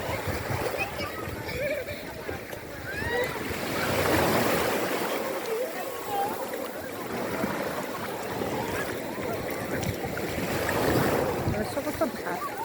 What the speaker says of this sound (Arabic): شوفوا البحر